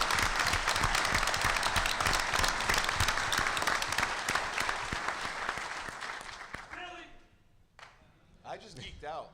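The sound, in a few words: audience applause at a gun panel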